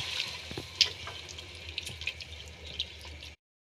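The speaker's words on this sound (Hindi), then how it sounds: "अब इस कंडीशन में मैं इसमें थोड़ा सा पानी ऐड करती हूँ।" Water trickles and splashes as a little is poured into a cooking pot of kadhi, a steady close stream with small drips, fairly quiet, before cutting to silence.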